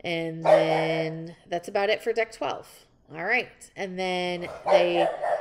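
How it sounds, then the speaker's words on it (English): A dog barks in loud, clear bursts near the start and again near the end, with someone talking between and over the barks. "that's my dog."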